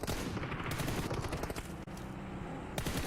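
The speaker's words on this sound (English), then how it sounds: "Shots down onto Baron." Dense gunfire in a PUBG Mobile esports tournament match, with rapid overlapping automatic bursts and shots, loud and continuous, cut by a brief dropout before the firing resumes.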